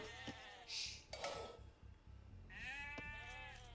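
Sheep in the video game Age of Empires II: Definitive Edition bleat several times in quick succession, short wavering calls coming faintly in two clusters.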